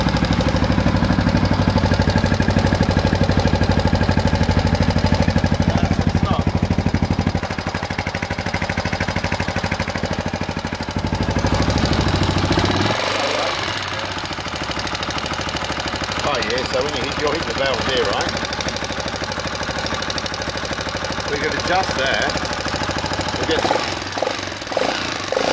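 A restored Honda XL250S motorcycle engine idles loudly with a steady rumbling vibration that shifts partway through as a voice talks over it.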